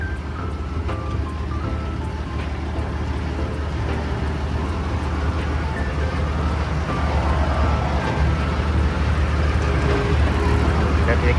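Hitachi RT200W seven-wheel rubber-tire road roller with a four-speed manual gearbox, driving in first gear: a steady, loud diesel engine rumble that holds constant throughout.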